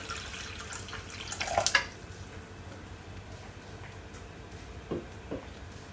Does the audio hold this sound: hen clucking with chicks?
no